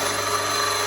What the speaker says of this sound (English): And there's my cheese grating away.